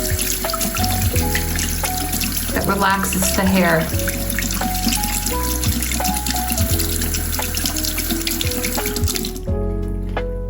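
Cold water poured from a tap over the synthetic Kanekalon hair of a 1988 Garden Party Barbie doll during restoration, a steady splashing gush running for about nine seconds and then stopping abruptly, with a person talking briefly over it.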